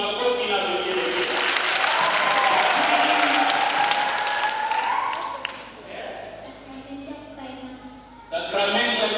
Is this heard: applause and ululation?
yes